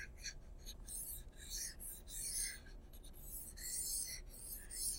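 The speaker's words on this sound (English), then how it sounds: "I'll erase all this." Soft, rhythmic rubbing strokes of an eraser wiping writing off a classroom board, repeated swipes rising and falling in faint, steady waves.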